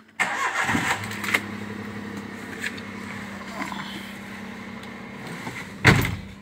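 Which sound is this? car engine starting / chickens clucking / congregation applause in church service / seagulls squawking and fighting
car engine starting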